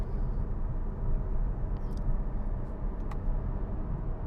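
Acura TLX Type S engine heard from inside the car while driving, a steady broadband drone and road rumble that holds an even level throughout, with no talking.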